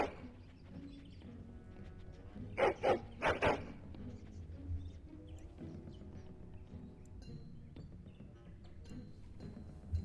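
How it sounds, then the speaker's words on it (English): A dog barking in the fantasy video game Dragon Age Origins, a few sharp barks in quick succession over a low background of game ambience and faint movement. "it wasn't barking for no reason"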